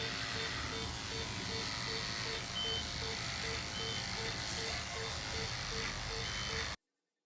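Electric clippers buzz steadily while shaving hair from an animal's belly, a faint, continuous hum with a high whine that runs unbroken for several seconds before stopping.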